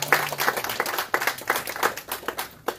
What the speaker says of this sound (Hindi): बहुत सी तालियों में डॉक्टर फातिमा